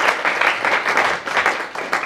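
An audience at a poetry reading gives brief, lively applause, a close burst of clapping in pulsing waves that lasts about two seconds.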